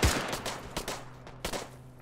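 Gunfire in the military shooter game Arma 3: one sharp shot up front, then a few scattered distant cracks and a short burst, fading in between over quiet background noise.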